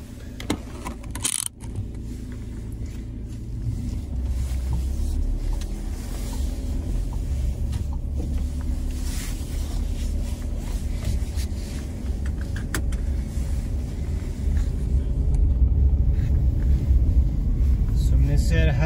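Car driving on a road in Stockholm, Sweden, during learner-driver practice, a steady low engine and road rumble heard from inside the cabin with a clunk near the start; no talk is heard.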